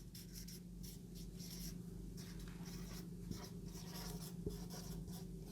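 Marker writing values on a board during a computer science lecture on mantissa and exponent, faint steady strokes and rubbing over a low background hum, with a couple of soft taps.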